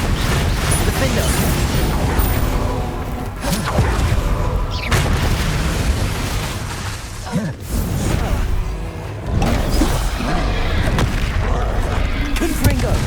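Confringo blasting spells exploding in Hogwarts Legacy, a series of deep booms and crashes amid continuous game noise, with a voice talking throughout.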